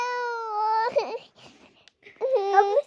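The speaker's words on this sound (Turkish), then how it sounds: "Niye ağlıyorsun? Ağlama." Infant cousin crying in bursts, a wailing cry, then a short sobbing break and quiet whimpers before another loud wail, close by with no adult talk.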